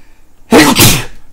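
One loud, close sneeze, a single sharp burst standing alone against a quiet outdoor background while fishing for eel and barbel in Italy.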